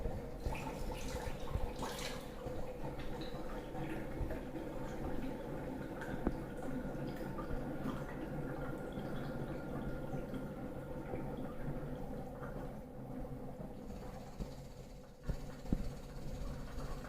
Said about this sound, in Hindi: अब मैं आपको अपनी अल्कलाइन की मशीन से लाइव वाटर भरता हूँ